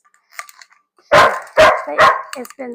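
Dogs bark three times in quick succession, loud and close, after a few faint clicks and tapping sounds, with softer yips trailing off.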